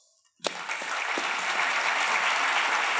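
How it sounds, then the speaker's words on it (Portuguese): After a brief quiet moment, a roomful of people breaks into applause that quickly builds and holds steady, loud and continuous. "Palmas."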